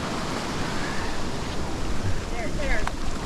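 Surf breaks and washes continuously on a beach during surf fishing, a dense, steady roar of waves, close and loud, with faint voices in the background.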